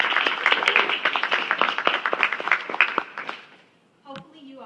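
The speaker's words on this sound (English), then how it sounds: "Can we get a round of applause for them?" An audience at a panel conversation applauds with dense, crackling clapping that mingles with a few voices, fades out after about three seconds, and then a speaker begins talking.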